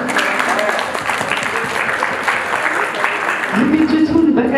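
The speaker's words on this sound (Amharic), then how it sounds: "ጭብጨባ።" Warm audience applause at an Ethiopian event honoring a generous woman, dense continuous clapping from a crowd, loud and sustained, with a voice rising near the end.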